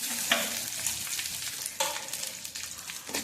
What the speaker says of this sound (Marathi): आणि कढीपत्ता छान असं भाजून घ्यायचं, थोडंसं छान होईपर्यंत.